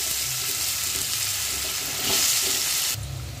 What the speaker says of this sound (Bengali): আলুটা দেখুন ভাজা ভাজা হয়ে গেছে।